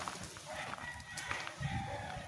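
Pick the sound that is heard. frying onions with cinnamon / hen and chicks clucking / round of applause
hen and chicks clucking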